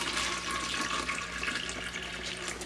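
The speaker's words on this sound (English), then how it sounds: "I just basically dump out the water and refill them." Water from small snake enclosure cups is dumped out and poured in a steady, close splashing stream that runs continuously.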